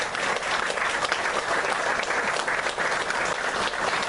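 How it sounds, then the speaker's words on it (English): A conference audience at an electric vehicle festival gives sustained, loud applause, a thick, continuous roar of many hands clapping that stays steady throughout. "Everyone should give this man a huge round of applause."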